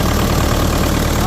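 Engine of a homemade Belarus 80.x mini tractor running steadily at idle, a loud, continuous low rumble close by with no breaks.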